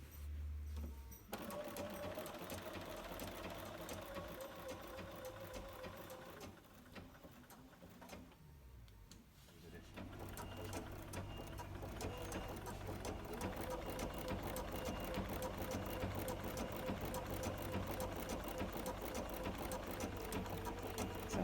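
A Bernina 770QE sewing machine stitches applique with a steady, close mechanical whir and rapid needle clatter, pausing briefly partway before running continuously again.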